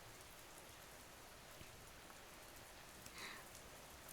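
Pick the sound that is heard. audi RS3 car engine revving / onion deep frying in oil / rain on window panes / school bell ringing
rain on window panes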